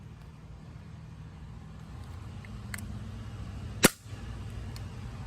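An Umarex CO2-powered BB gun fires one sharp, close shot over a low, steady background hum, with a couple of faint clicks before it.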